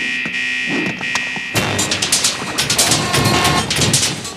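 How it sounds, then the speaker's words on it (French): Alarm going off in a French-dubbed animated space cartoon: a steady electronic buzzing tone for about a second and a half, then a loud, dense clatter of sharp bursts and blasts. "Cette espèce de chien hypocrite a déclenché l'alarme."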